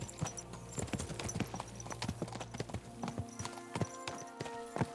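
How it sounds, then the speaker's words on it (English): Horses gallop in the medieval video game Kingdom Come: Deliverance II, with rapid, uneven hoofbeats clattering close and continuous throughout, alone without speech. "Let's really spur these horses on, eh?"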